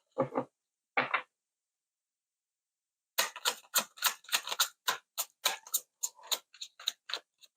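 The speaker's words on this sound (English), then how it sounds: "Shuffling." Tarot cards shuffled by hand: two brief riffles, a pause, then a quick run of sharp crisp flicks close by, in a quiet room.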